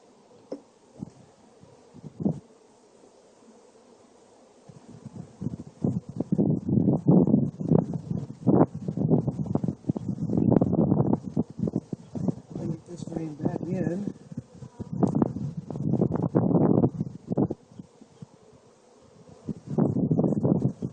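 Honey bees buzzing around brood frames lifted from a hive, a busy, fluctuating drone that swells and dips close by, with someone talking intermittently over it.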